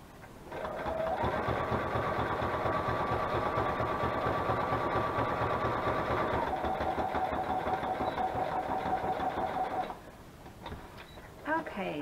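Sewing machine stitching through the pages of a glued craft journal, a steady close mechanical hum lasting about nine seconds before stopping, with faint speech after it ends.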